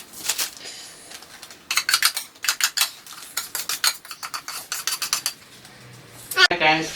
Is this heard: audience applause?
no